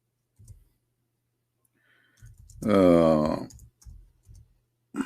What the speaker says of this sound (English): Oops, got typing. Excuse my keyboard.